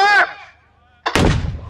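An artillery gun fires one loud, booming round at a wartime reenactment event, following a shouted firing command, the blast's rumble continuing to the end.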